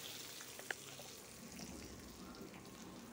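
Curry leaves frying in a pan for tomato ginger pachadi, a faint steady sizzle close by with a couple of small pops, no talking.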